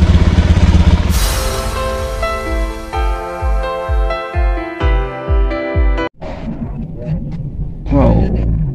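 A Honda Beat FI scooter with an intermittent starting fault cranks on its electric starter, a rising whine with rapid throbbing pulses, then the engine fires and idles with a revving roar, close and loud.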